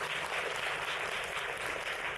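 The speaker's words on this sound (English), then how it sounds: "Please give her another big round of applause." Audience applause at an education symposium, a brief, even patter of clapping from a hall of listeners, moderately quiet and unbroken.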